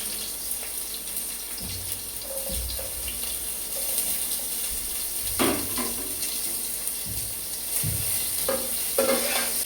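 Sliced onions frying in hot oil until deep red-brown, a steady sizzle throughout with occasional scraping and stirring clatter from a utensil against the pan, close by.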